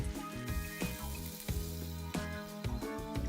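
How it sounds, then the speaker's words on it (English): Pork belly and kimchi sauté in a hot pan, giving a soft, steady sizzle that sits low beneath background music. "saute in the pan for a couple minutes just to develop some flavors"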